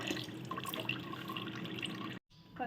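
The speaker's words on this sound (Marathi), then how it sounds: "पाण्याला उकळी आली" Bubbling, gurgling salted water at a rolling boil for sago papad, steady and close, briefly cutting off before resuming.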